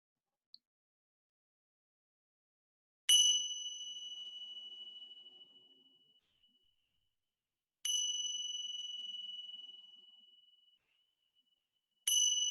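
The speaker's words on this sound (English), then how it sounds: "The sound of the chimes is an invitation to start bringing a little movement" Meditation chimes ring three times in near silence, each bright tone struck crisply and left to fade slowly over several seconds, the strikes spaced widely apart.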